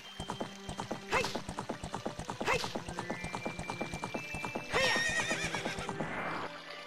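Steady clip-clop of hooves trotting along, broken by several loud horse whinnies, from the video game Zelda: Ocarina of Time, with no talking.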